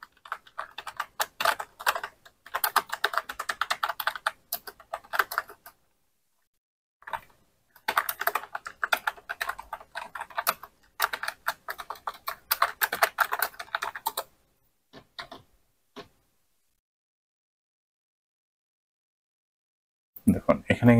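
Someone types on a computer keyboard in quick clattering bursts of keystrokes, with pauses of silence between runs and a final burst at the end.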